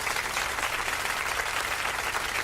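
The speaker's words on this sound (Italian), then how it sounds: "Ce l'abbiamo un applauso di incoraggiamento" Applause of encouragement from an audience backstage before a band performs, steady dense clapping throughout at moderate volume.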